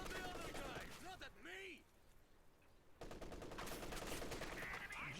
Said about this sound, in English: MG34 suppresses the conscript, gets them away.